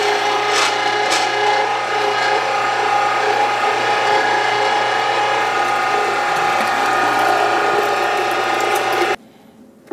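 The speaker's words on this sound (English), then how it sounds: "I'm going to go ahead and grind this up" An electric meat grinder fitted with a 4.5mm die grinds pork for bratwurst, giving a loud, close, steady mechanical whir and hum with a constant motor tone that cuts off abruptly near the end.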